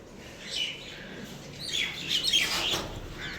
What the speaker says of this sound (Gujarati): ચકલાને સેવ નાખી છે તો માથાકૂટ કરે છે